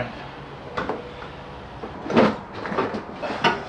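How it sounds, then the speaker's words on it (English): A door closes with a couple of soft knocks, then a heavier thud and rattle, near and moderately loud, during an AEV snorkel install on a 2025 Chevy Colorado ZR2 Bison. "All right, let me close the door first."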